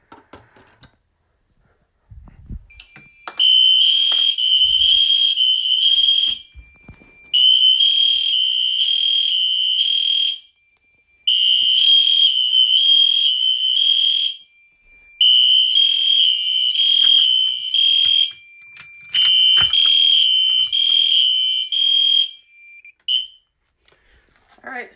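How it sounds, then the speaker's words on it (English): A smoke detector sounds during a fire alarm system test, with loud, piercing electronic tones in five long pulsing bursts separated by short pauses, after some faint handling noises. "so now we'll do the smoke detector"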